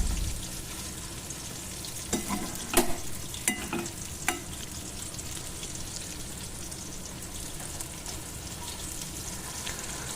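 Besan vegetable curry sizzles steadily in a hot pan while being stirred and sautéed, with a few sharp clinks of the spatula against the pan early on and no voices.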